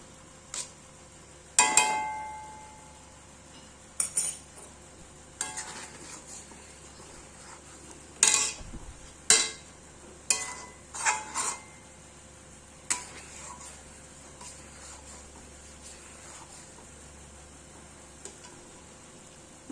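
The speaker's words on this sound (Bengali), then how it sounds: "নামানোর আগে একটু জিরে ভেজে ঘি দিয়ে নামিয়ে দেবো" Cumin seeds fry in ghee in a pan as the last step of a Bengali biulir (urad) lentil dal, a faint steady sizzle broken by scattered clinks and taps of utensils.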